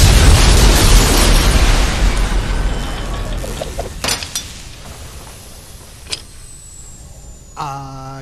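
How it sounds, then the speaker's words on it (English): A rocket crashing and exploding in the animated film Igor, a loud roaring blast that decays into rumbling debris, scattered clatters and pops, ending with a brief tonal sound. "The rocket is going to..."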